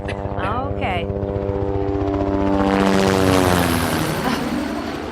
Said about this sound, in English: I'm so effing tired of those helicopters.